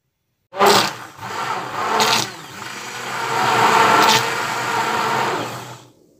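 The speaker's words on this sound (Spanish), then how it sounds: "Pues darle con la batidora." An electric mixer beating eggs whirs loudly and continuously for several seconds, its pitch rising and falling slightly as it beats, then stops abruptly.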